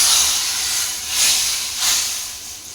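Loud, steady hiss of tadka spices hitting hot oil for khichdi, swelling in two brief surges before settling back to a constant crackle.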